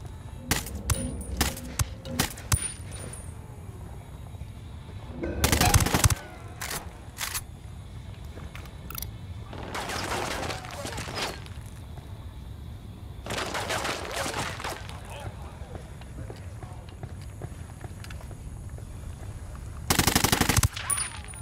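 Gunfire in the video game Ghost Recon Wildlands: scattered rapid clicky shots early on, then loud bursts of automatic fire around the middle and again near the end, over a low rumbling game background.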